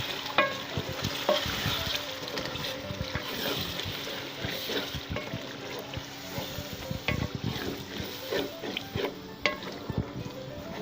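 Chicken frying in a pot with a paste of tomato, onion and yogurt, a soft bubbling sizzle with scattered stirring clatter and wet splatter, fairly quiet and close, without talk.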